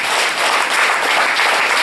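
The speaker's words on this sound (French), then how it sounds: "Je crois qu'on peut encore les applaudir." An audience claps warmly for young piano students at a student recital, producing a brief, steady burst of close, dense applause.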